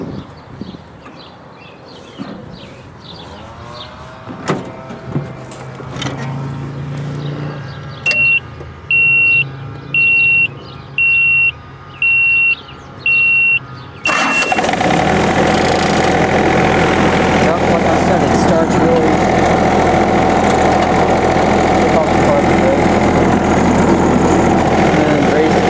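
A John Deere F1145 diesel mower cranks with a pulsing warning beep, then catches and settles into a loud, steady diesel idle that runs on for more than ten seconds, with faint speech early on.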